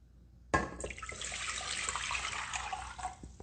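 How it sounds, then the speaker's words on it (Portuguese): Water poured into a container for moistening a cake, a steady splashing, gurgling stream that starts abruptly and runs on continuously at close range, with no speech over it. "Então eu vou utilizar aqui 120 ml, 120 gramas de água."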